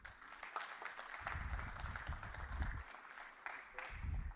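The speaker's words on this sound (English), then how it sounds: "please welcome him with a big round of applause" Faint, distant applause from a tech conference audience welcoming a speaker on stage, a steady patter of clapping with a few low thumps near the microphone, with no voices over it.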